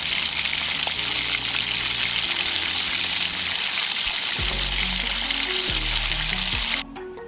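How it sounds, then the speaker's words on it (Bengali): Paneer pieces fry in hot refined oil in a kadai, giving a loud, steady, close sizzle that runs without pause, with a faint low hum underneath and no talking. "পনিরগুলো ছেড়ে দিলাম তেলের ওপরে"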